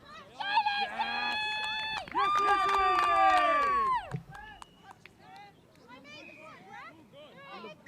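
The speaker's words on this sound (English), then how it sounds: "They're cheering for a Lucy." Spectators at a mixed touch rugby match shout and cheer in sustained, close bursts, with voices rising over one another, then easing into scattered individual calls.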